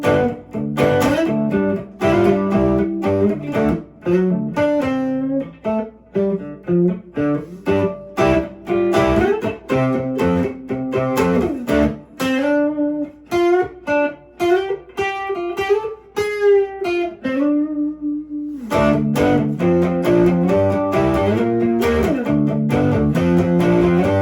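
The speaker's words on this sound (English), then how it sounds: "Turn on a little bit of overdrive distortion." A plucked McCafferty dulcimer plays through an amplifier with overdrive distortion, gritty sustained notes and strummed phrases with short pauses between, loud and close.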